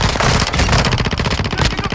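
A deployed sentry gun in Call of Duty: Modern Warfare II DMZ fires rapid, loud automatic bursts, the shots rattling in a dense, continuous stream up close.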